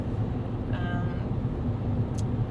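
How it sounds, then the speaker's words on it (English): A cat gives a single short meow partway through, fairly faint against a steady low rumble of background noise. "now I've added 2 kitties to the group"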